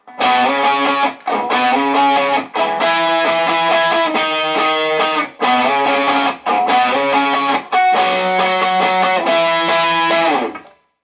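An electric guitar plays a complete riff, a sequence of loud sustained note phrases repeated in a steady pattern with short pauses, played alone.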